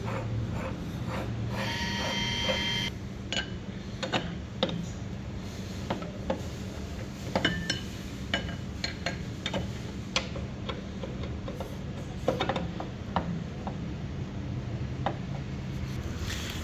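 A ring being tightened on a hydraulic burst tester for ISO 13938-1 fabric testing, heard as a string of sharp, irregular ratcheting clicks and ticks over a steady mechanical hum, close by with no talking.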